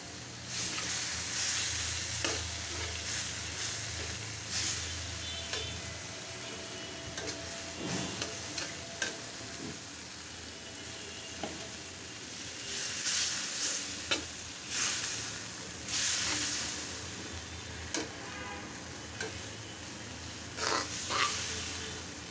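Tomatoes frying with koi fish and peas in a pan make a continuous sizzle and hiss, with intermittent spoon scrapes and bursts of louder crackling spread through the stretch, and nobody speaks.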